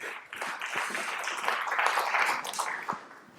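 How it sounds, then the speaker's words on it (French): Audience clapping at a French presentation on palm reading, a moderate, fairly close patter of hands that swells in the middle and thins toward the end, with no voices on top. "On l'applaudit."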